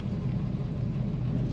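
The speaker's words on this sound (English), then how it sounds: "The idle also. I'm sure you just heard it. It sounds great in this car." A 1967 Ford Mustang Coupe engine idles with a steady, low, close rumble throughout a brief stretch.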